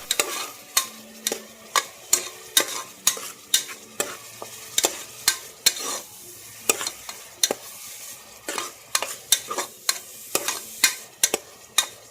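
Onions fry in a pan while a spoon stirs them, making a close sizzle broken by sharp, rhythmic scraping knocks about once or twice a second, with no talking.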